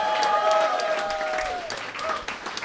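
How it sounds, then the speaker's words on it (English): An audience at a World of Warcraft community event in London applauds a club and a dojo, a short burst of clapping that swells then fades, with a few voices and whoops mixed in. "Can we get a round of applause for Club Titos and Dungeon Dojo as well?"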